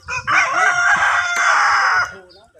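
A single loud rooster crow rings out close by in a rural village, sustained for about two seconds before trailing off.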